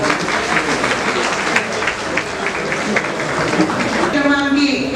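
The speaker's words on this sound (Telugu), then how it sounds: "శ్రీధర్ గారికి అందరం చప్పట్లతో స్వాగతం" An audience at a government event in the Ranga Reddy collector's office claps to welcome a guest, a dense, steady patter of applause throughout, with a voice over a loudspeaker near the end.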